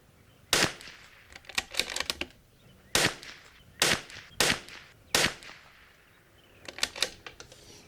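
Shots from a Bergara B14R .22LR rifle at a range crack out one at a time, about five sharp reports spaced roughly a second apart with clicking bolt work between them, close and fairly loud, no talking.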